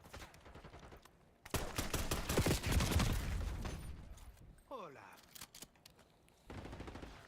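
Shotgun gunfire from a Call of Duty match crackles in a dense burst of blasts, and a few scattered shots follow. Faint voices and in-game sounds run underneath.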